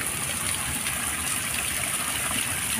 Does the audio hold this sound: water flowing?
yes